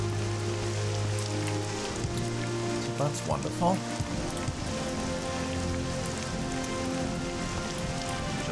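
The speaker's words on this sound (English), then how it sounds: "It's also bloody raining." Steady rain falls in the video game Morrowind, a constant hiss under a low ambient drone, with someone talking briefly over it.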